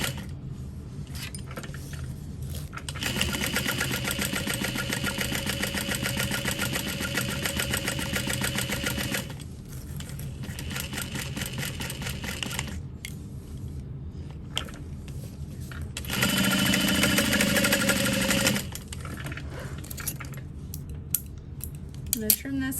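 A sewing machine stitches around a vinyl and canvas knapsack piece in two long, steady mechanical runs with pauses and small handling noises between them.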